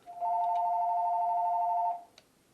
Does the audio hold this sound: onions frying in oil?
no